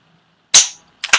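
An M4/AR-15 rifle is dry-fired, giving a crisp mechanical trigger click followed by a second quick metallic snap, loud and close in a quiet room.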